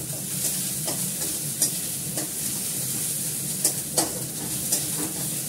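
Onion, ginger, garlic and dried chillies fry in a pan with a steady, close sizzle, broken by occasional clinks and scrapes of stirring.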